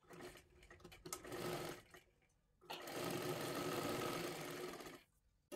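A sewing machine stitches blouse fabric in two steady runs of close mechanical whirring, separated by short pauses.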